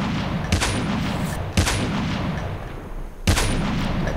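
Sniper rifle shots in the mobile shooter Call of Duty Mobile during a duo ranked match: three loud, sharp reports spaced about a second apart, each with a long echoing tail over constant game ambience.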